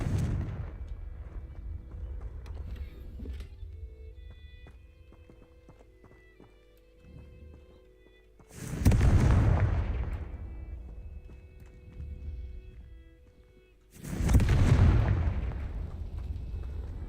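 Two booming fire-spell explosions from the Confringo spell in Hogwarts Legacy, each a loud blast with a decaying rumble, separated by several seconds of quiet game ambience with faint hoof clopping.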